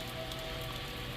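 A garden hose spray set to a light drizzle patters steadily on a desert tortoise in a backyard, a continuous close hiss of falling droplets with no pauses.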